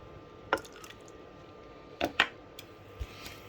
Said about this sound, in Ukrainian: Візьмемо полоночок, сюди ополоночок водички.